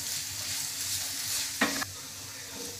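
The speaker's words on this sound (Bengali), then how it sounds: "এবার আমি এগুলো ভালো করে ভেজে নেব।" Ground cumin, coriander and chili powder fry in hot oil while being stirred, a steady close sizzle with a short louder scrape of the spoon midway and no talking.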